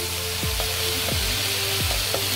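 Onion, tomatoes and garlic frying in cashew nut oil in a pan for butter paneer, a steady close sizzle with a low electrical hum and a few soft scraping stirs.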